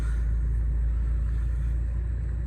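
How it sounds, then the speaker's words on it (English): A 2013 Renault Captur 1.5 dCi diesel running after a push-button start, a steady, close, low engine rumble that holds evenly throughout with no voices. "you can simply dip the clutch, press the start button, and it starts up like so"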